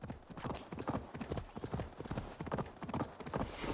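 Horse hooves clip-clop in a steady, quick galloping rhythm in Assassin's Creed Valhalla, fairly faint and continuous across the whole stretch.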